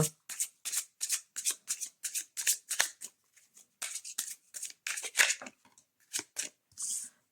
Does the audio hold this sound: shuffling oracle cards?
yes